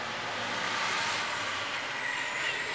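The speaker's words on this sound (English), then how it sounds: "Truck's going outside." A truck rolls by outdoors with a faint hiss of air brakes, a soft, distant broadband rush and a high whine drifting slowly downward, heard alone at low level.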